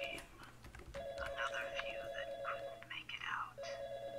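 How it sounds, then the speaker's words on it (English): Telephone in a Garry's Mod horror map ringing in two electronic bursts separated by a short gap, moderately loud, with people talking over it. "someone answer the phone"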